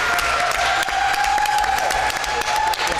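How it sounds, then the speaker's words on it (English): Round of applause from the audience at a Mableton city council meeting, steady dense clapping filling the room throughout, with a faint voice underneath. "Rochelle Blaylock a round of applause."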